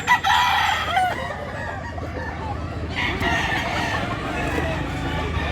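Near the start a rooster crows loudly in one harsh call, then more fowl cluck and crow faintly in a busy outdoor setting with steady background noise.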